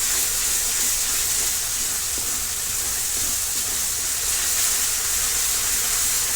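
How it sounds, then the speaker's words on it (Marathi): Onion and tomato puree fries in oil with a loud, dense, even sizzling hiss that holds steady from start to end, with no voices. "याच्यामध्ये थोडंसं फक्त एक तेल सुटेपर्यंत फक्त भाजून घ्यायचं"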